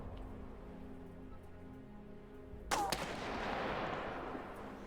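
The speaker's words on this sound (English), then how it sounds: "So there's a sniper here. We are currently in cover. We just have to wait for a shot and then run." A single sniper rifle shot cracks sharply partway through a tense scene in the video game This War of Mine, then decays into a rough echo over a quiet, low background hum.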